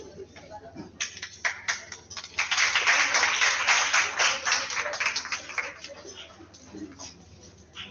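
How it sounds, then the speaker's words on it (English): Round of applause from a seminar audience, rising after the first second into a sustained dense patter of many hands, then thinning and fading toward the end, with no talking over it. "please institute a round of applause for the Professor for Vice Chancellor"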